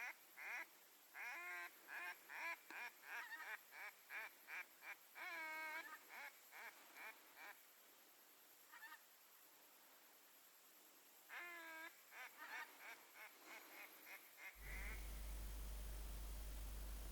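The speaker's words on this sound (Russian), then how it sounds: "Крякай, крякай, крякай, Валентин." Repeated nasal duck quacks come in short bursts and rapid strings during an autumn duck hunt, fairly close and clear over a quiet background, then a steady loud rumble takes over at the end.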